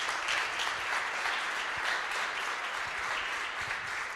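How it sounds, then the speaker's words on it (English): An audience applauds a keynote speaker at a Berlin demo day, with dense, steady clapping sustained throughout, moderately loud and filling the room. "Give him a round of applause, please."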